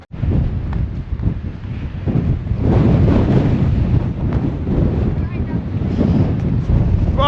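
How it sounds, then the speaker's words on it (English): Strong wind at West Cape on the Yorke Peninsula coast near the lighthouse buffets the microphone in loud, continuous gusts, with the sea faintly underneath. "Oh, it's windy."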